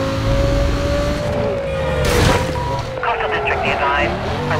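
A car engine roaring in the racing video game Need for Speed: Most Wanted, a loud continuous drone that climbs and dips in pitch as the car accelerates, with someone talking over it.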